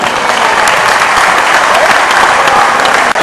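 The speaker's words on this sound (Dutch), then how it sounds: "En dan de winnaar van deze partij, dames en heren, een applaus." Loud, dense applause from the audience at the Dutch Open NSKO event in 2011 greets the winner of a match, steady and sustained throughout.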